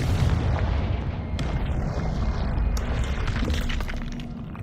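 The Confringo blasting curse going off in Hogwarts Legacy: a heavy, booming explosion with rumbling low end and crackling, shattering debris that sustains and slowly decays, close and loud, with no voice over it.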